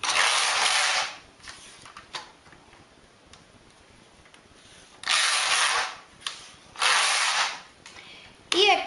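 Four sweeping whooshes of a knitting machine carriage pushed across the needle bed, each a loud rasping pass with ticking mechanical clicks in between, close and alone.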